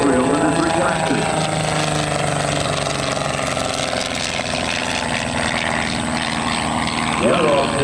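LongEz canard aircraft flying an airshow demo at Willow Grove in 2003: a steady, loud propeller engine drone that holds throughout, with a commentator talking over it on the public address.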